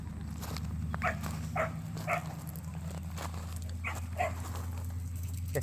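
A puppy barks in short, sharp yips at fairly regular intervals, about eight in all, over a steady low hum, with no talk.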